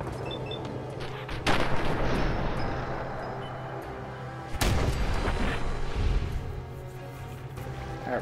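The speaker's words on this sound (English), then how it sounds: "Alright, nice exploding action." Explosions in the game ModBox crack out in two loud blasts a few seconds apart, each followed by a rumbling roar.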